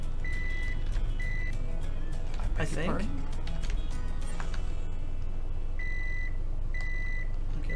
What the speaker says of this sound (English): Sounds less like a truck reversing and more like a microwave is done.